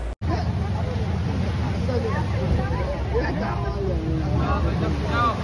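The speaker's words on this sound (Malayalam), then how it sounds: "സ്പീഡ് ബോട്ടിലാണ് നമ്മളിത് കാണാൻ കൊണ്ടുവന്നത്" A speedboat motors across clear sea near Musandam and Dibba, Oman, its steady engine drone mixed with wind rush under ongoing chatter from passengers.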